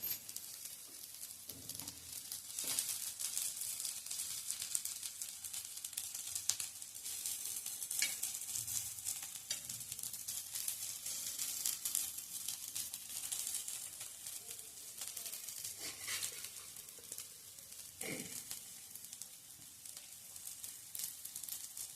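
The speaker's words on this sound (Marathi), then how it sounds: "सुरुवातीला अगदी लो फ्लेमवर आणि एकदा उलटून झाले की मग मीडियम फ्लेमवर आपण हे भाजून घ्यायचे" Small vegetable cutlets frying on a flat iron griddle over low to medium flame, giving a soft, even, continuous sizzle close by with no talking.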